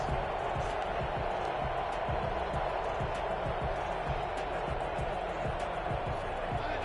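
Football stadium crowd roaring after a defensive stand forces a turnover on downs, a steady, distant wash of cheering with no distinct peaks, heard alone without voices.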